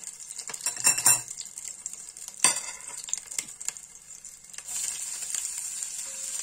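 Onions tipped into a hot pan with tomato for chicken drumsticks, metal utensils clanking against the pan, then a steady bright sizzle rising as they hit the heat, close and moderately loud.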